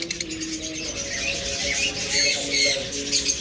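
Pet birds in a shop selling lovebirds, cockatiels, budgerigars and finches chatter and chirp continuously, a dense mix of high squawks and tweets from many cages close by.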